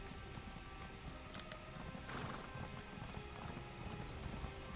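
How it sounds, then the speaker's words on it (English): Horse hooves clopping at a steady riding pace in Elder Scrolls Online, a fairly quiet rhythmic patter set against a constant ambient game background wash. "Don't mind me, just riding the horse onto your ship."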